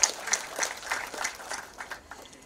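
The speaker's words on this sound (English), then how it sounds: "a big round of applause" An audience at a launch event applauds, with uneven claps of moderate loudness that rise and fall in small bursts before thinning out toward the end.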